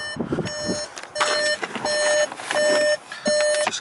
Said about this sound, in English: excuse the beeping, it's just the lights that are on